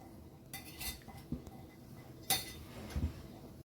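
A spoon scrapes and clinks against a bowl while black chana chaat is mixed with tomato ketchup, soft irregular taps and stirring sounds close by, with no talk.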